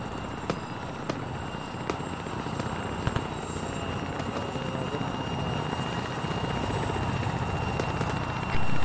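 Continuous loud helicopter rotor and engine drone in a military video game prison-rescue operation, steady and close throughout with a few sharp clicks and pops on top.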